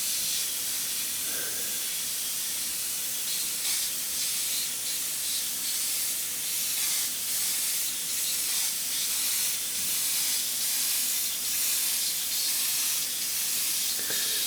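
An airbrush hisses continuously in a long, steady mist of paint sprayed onto a panel for a marble effect, pulsing slightly in strength as it sweeps, with no talking.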